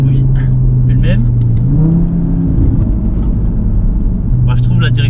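An Audi RS3 engine revs hard with its exhaust valves reopened, a loud rising and falling roar with a pitch sweep, while voices talk over it.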